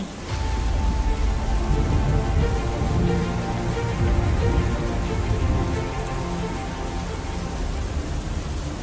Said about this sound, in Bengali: অনেকদিন পর আমরা সবাই একটু বৃষ্টি পেয়েছি।